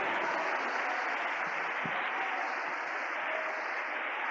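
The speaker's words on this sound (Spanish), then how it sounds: "Aleluya. Un aplauso." Sustained applause from a church congregation during a sermon, a dense, steady clatter of many hands clapping that fills the whole stretch without pause.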